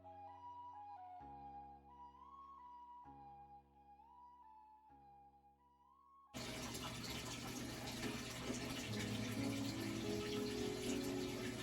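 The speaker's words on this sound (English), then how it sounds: "I do have a fish tank that filters out the water, so you can probably hear that." A home fish tank filter runs with a steady, fountain-like trickle and gurgle of circulating water, starting abruptly partway through after quieter tonal sounds and then continuing loud and close.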